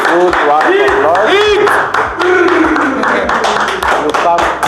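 A group of participants claps a round of applause at the close of a prototyping workshop, with sharp, uneven claps under loud, continuous talking and voices.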